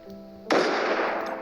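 A single sharp gunshot from a gun mod in the Minecraft video game, fired mid-clip as a loud burst with a broad, noisy decay that rings out for about a second. No one speaks.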